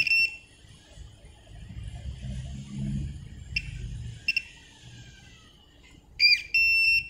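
A homemade continuity tester built from a battery and a buzzer gives several high electronic beeps, some short and some held, each time the probes touch, with a low rumble of handling noise in between.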